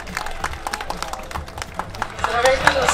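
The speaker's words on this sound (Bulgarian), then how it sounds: "Аплодисменти на господа за госпожа Лечева." Audience clapping for the deputy mayor at the opening of a 2016 strongman championship in Primorsko, Bulgaria: a dense spatter of hand claps with crowd murmur, swelling slightly louder toward the end.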